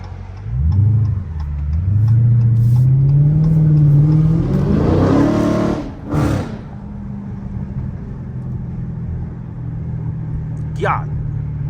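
A Dodge Charger Scat Pack engine revs hard and climbs in pitch, a loud throaty exhaust roar, then drops off to a low idle rumble with a short squeak near the end.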